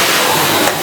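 A vacuum cleaner runs at close range during home renovation work, a steady loud whining drone with a constant airy hiss that barely shifts for the whole brief moment.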